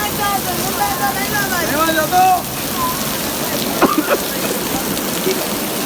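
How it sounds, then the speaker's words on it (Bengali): Steady, heavy rain hisses across the whole clip in Gulistan, Dhaka, near the volleyball stadium, dense and close, with a few brief tonal squeaks or calls cutting through. "বৃষ্টিটা প্রচুর দিচ্ছে"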